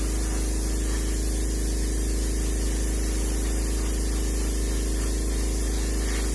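Spray gun steadily coating a muskie fish mount with white paint, a continuous close hiss of airbrush spray with a constant low compressor hum underneath.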